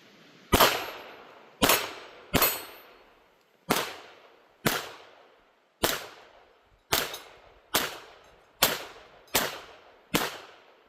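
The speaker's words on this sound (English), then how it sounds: "Let's do some one-handed shooting." Eleven sharp gunshots from a Taurus TX22 .22 pistol fired one-handed crack out one at a time at an uneven, steady pace, each loud report followed by a short decaying ring, with no talking.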